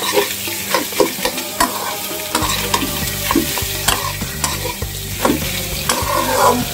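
Pieces of catla fish frying in a pan, a loud, close sizzle of hot oil that grows heavier partway through, with repeated sharp taps and scrapes of a spatula stirring.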